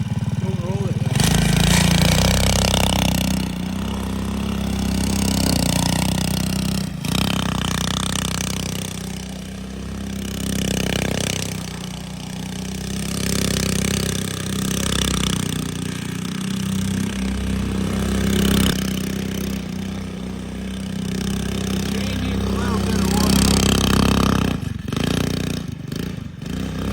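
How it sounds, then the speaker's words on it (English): The engine of an Eton Viper 90R mini quad swapped to a 212cc motor runs loudly, revving and idling in snow as the loose exhaust rattles against its mount, with people talking over the engine. "That rattling you're hearing is the exhaust"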